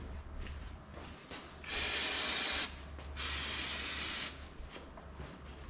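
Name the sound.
aerosol brake cleaner spraying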